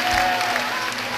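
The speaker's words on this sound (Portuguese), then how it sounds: "Aplauda ao Rei Jesus." A church congregation applauds during an evangelical service, a short, dense burst of many hands clapping together, fairly loud and steady, with a faint voice briefly audible underneath.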